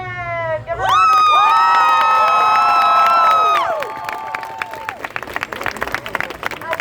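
A crowd at a high school sexual assault protest cheers and whoops loudly, with sustained shouts at the start, then breaks into clapping that carries on closely after the cheers fade.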